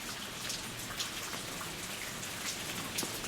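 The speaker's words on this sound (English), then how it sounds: "it's hailing in an area" Hail falling steadily outdoors among many trees, a dense broadband patter of small impacts with occasional sharper hits, continuous and fairly close, with no voices.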